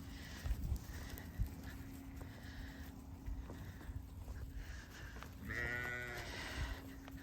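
Breeding ewes on a sheep farm in winter give a few scattered bleats against a quiet outdoor background with faint thuds and rustling, and one louder, closer bleat comes near the end.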